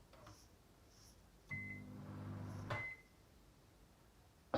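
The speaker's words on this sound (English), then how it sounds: "30 seconds in the microwave will do." A microwave oven runs briefly with a low hum, framed by short electronic beeps before and after, faint and close in a quiet kitchen.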